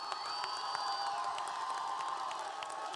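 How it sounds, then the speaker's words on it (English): A high school graduation audience applauding and cheering, a steady wash of crowd noise with scattered whoops and claps, heard at a moderate distance and holding level throughout. "please stand up and show your applause"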